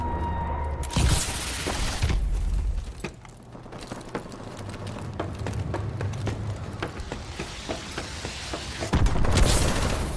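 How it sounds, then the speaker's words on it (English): Missile strike explosions in Call of Duty Advanced Warfare multiplayer, with heavy booming blasts at the start and end and scattered cracks and debris between them, loud and continuous. "Friendly missile strikes inbound."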